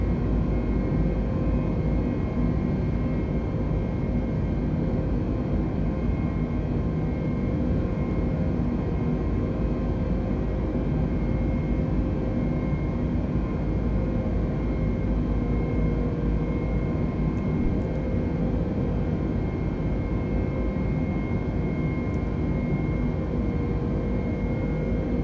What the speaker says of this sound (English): the aircraft will now accelerate up to 320 knots